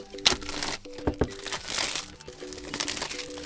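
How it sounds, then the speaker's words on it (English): POCO X7 smartphone box packaging being cut open, giving close crinkling and crackling of plastic wrap and cardboard with small snaps and tearing sounds, with no talk. "let's just cut our way into it."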